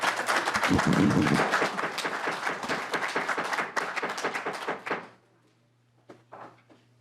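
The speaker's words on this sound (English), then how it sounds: "Please keep the applause down" Dense, steady applause fills a House labor committee hearing room during a petroleum refinery safety bill session, holding for about five seconds before cutting off sharply, leaving quiet with a couple of faint knocks.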